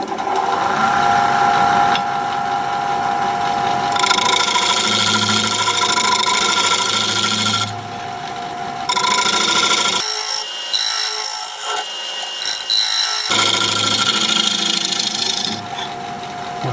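A wood lathe spins a turned wooden piece, giving a continuous whirring hum with a scraping, rasping texture. The sound holds steady for most of the time and drops out briefly in the middle before resuming.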